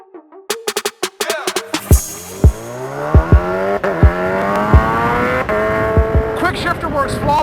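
Supercharged 1000cc Kawasaki Ninja H2 motorcycle accelerating hard, engine pitch climbing steadily through quick-shifted gear changes with sharp clicks. The engine is loud and close, with a voice heard briefly over it.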